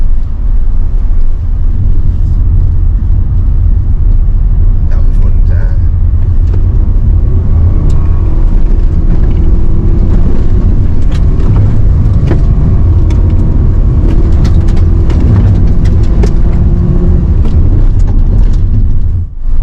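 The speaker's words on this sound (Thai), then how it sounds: "เราสุดคันเร่งของ เจ้า Expander Cross เลย ในโหมดดีสปอร์ตนะครับ" A Mitsubishi Xpander Cross Gen2 accelerates at full throttle in sport mode, a loud, sustained engine drone with heavy road and cabin rumble that holds steady for about twenty seconds, with no talking.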